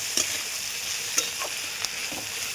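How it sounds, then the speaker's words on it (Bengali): Green chillies gone red frying with ginger garlic paste in a pan, a steady close sizzle with a few sharp stirring scrapes breaking through, no voices. "খুব ভালো করে একটু ফ্রাই করে নেব।"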